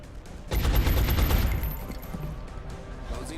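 Suppressing fire in the turn-based tactics game XCOM: a dense rattling burst of gunshots that swells quickly, holds for about a second, then tails off into a lingering rumble.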